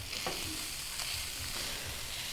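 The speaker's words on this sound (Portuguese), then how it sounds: "Essas carnes estão refogando aqui por aproximadamente 10 minutos" Meat sautés in a pan for arroz carreteiro with a steady close sizzle and frying crackle, plus a few brief scrapes of stirring, and no voices.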